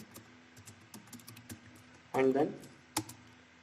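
Rapid keystrokes on a computer keyboard entering code, a quick run of close clicks with a short burst of speech partway through.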